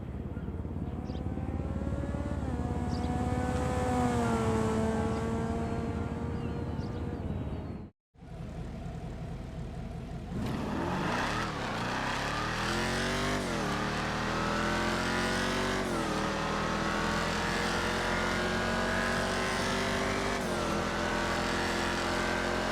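A Turismo R supercar in GTA Online drones in the distance, then rises and falls in repeated revving sweeps after a brief silent break, with no talking.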